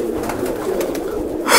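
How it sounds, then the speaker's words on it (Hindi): A pet pigeon coos steadily and close by in soft, low repeated calls, with no voices and a brief louder rustle at the very end. "ये कबूतर है"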